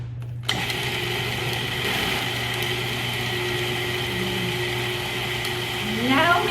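Food processor running steadily while blending spinach pesto, a constant motorized whir with a high buzzing hum, loud and close, continuing without breaks.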